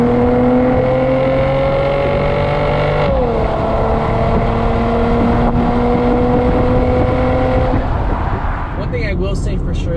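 A 2008-2014 Mercedes-Benz C300 W204 sedan pulls hard from inside the cabin, its engine note rising steadily, dropping at a gear shift, then climbing again under constant road and wind roar.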